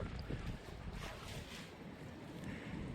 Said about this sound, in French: Ouais, il y a le bruit de la flotte avec.